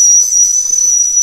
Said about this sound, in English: And that would be your way to release some steam pressure.